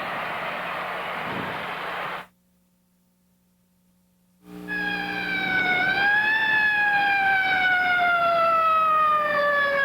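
After a brief silence, a loud wailing emergency siren rises and falls steadily, close by and continuous with no voices, at a football game in the Louisiana Superdome.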